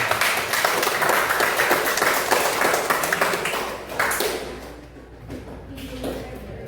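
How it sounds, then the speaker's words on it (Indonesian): Classroom applause for a student group after a maths exercise: a dense burst of many hands clapping close by that fades after about four seconds into quieter room noise. "Tepuk tangan buat kelompok 4."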